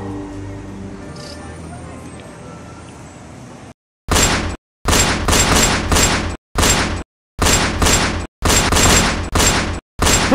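Loud weapons fire in a staged standoff, bursts of gunshots cut into sharp separate volleys after a quieter stretch of room tone, close and harsh, with no voices between the shots.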